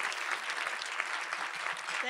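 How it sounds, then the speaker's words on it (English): Audience applause at an anniversary celebration event, steady dense clapping filling the room for about two seconds, with some voices mixed in. "Could we give these two ladies a real wonderful round of applause?"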